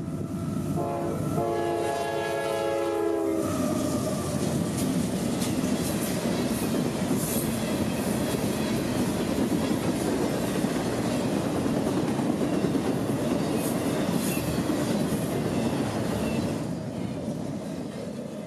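Train IO44 runs northbound on single main track at St. Catherine in central Florida, speeding past at track speed: a loud horn blast opens, then heavy rumbling and clattering wheels roll by close and steady before easing slightly at the end.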